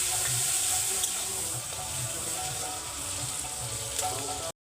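Tomatoes frying in a pan with salt, giving a loud, continuous close-up sizzle with a dense hiss and no voices.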